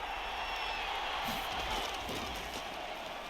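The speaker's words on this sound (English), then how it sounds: "Here comes a big one as this crowd gets out making some noise" Stadium crowd noise in the Madden 24 football game during a Super Bowl matchup between the 49ers and Chiefs, a broad steady roar of cheering that holds evenly throughout under faint commentary.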